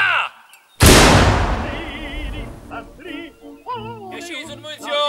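A replica German light field howitzer, the leichte Feldhaubitze, fires one loud, close blast whose roar fades over a couple of seconds, followed by voices shouting over the fading rumble.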